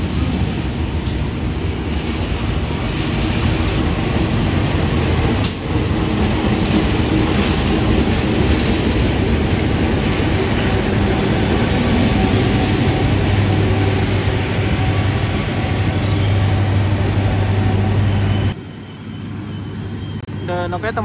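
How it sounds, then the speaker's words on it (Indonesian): The Sawunggalih passenger train pulls into Kroya station on track 4, a loud, continuous rumble and rolling rail noise that carries steadily before cutting off abruptly near the end. "ini untuk kereta api Sawunggalih telah tiba di stasiun Kroya, lebih tepatnya di jalur nomor 4"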